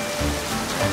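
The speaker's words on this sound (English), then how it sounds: "Airwoman blew away the rain." Steady rain falling in a cartoon scene, a dense continuous hiss of drops pattering on a surface, close and even throughout with no voices.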